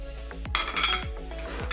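Ingredients are mixed in a large bowl for a chicken and mushroom casserole, with close, quick clinks and scrapes of a utensil against the bowl in a short burst, and no talking.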